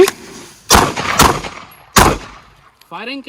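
Pistol shots fired at targets during a self-defence handgun drill, three sharp loud bangs spaced about half a second to a second apart, followed by a brief voice at the end.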